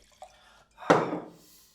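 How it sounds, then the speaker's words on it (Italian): Ice-cold water is poured into a glass in a kitchen while a breaded Bolognese cutlet is being tasted: a small click, then a short splashing pour that quickly tails off. "Un bicchiere d'acqua ci vuole,"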